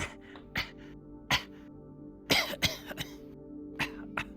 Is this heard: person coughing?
yes